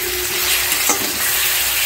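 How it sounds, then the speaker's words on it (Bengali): Tomato paste and spices are stirred in a sizzling frying pan for a vegetarian Bengali potato curry, a steady close frying hiss with a brief scrape of the spatula partway through. "ভালো করে নেড়ে নিচ্ছি।"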